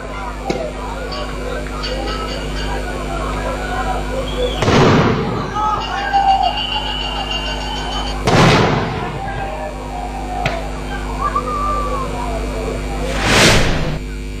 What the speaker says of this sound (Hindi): लगातार सिक्योरिटी फोर्सेज आंसू गैस के गोले छोड़ते रहे